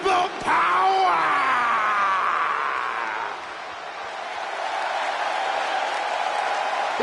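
An arena crowd in the WWE 2K20 wrestling game roars and applauds loudly, surging at first and then settling into a sustained, broad cheer that fades slightly before holding steady.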